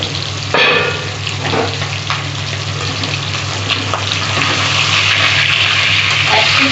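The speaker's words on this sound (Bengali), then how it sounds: "এবার ঢাকাটা খুলে দেখি কতদূর ভাজাটা হলো" Fish frying in a pan for a fish curry gives a steady, loud sizzle and hiss that runs unbroken throughout, with a brief clatter near the start.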